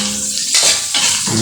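Onions, garlic and carrots are stirred in a pan for escabeche chicken, with a spatula scraping and clinking against the metal twice over a steady sizzle.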